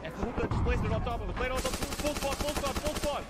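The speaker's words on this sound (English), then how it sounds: "I hear them shooting." Gunfire in the combat video game Arma Reforger: scattered shots at first, then a fast burst of rapid automatic fire, heard under excited talking from players.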